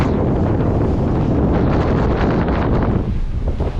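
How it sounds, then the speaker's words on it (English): Strong, steady wind roars across the microphone on a sailing boat running under a double-reefed mainsail, a dense continuous rush that stays loud throughout with no voices. "There's quite a lot of wind."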